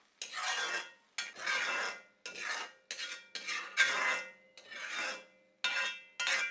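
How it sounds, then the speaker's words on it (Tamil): A utensil scrapes and stirs green masala paste with water in a pan, giving about eight distinct rasping strokes in an uneven rhythm. The sound is close and moderately quiet, with no talking. "இதில் கொஞ்சம் தண்ணி ஆட் பண்ணிக்கிறேன். பேஸ்ட் இதோட கலரிப்போம்."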